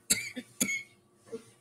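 A few short, sharp coughs in quick succession, close and fairly quiet, with brief pauses between them.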